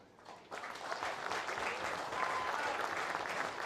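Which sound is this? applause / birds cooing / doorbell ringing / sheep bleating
applause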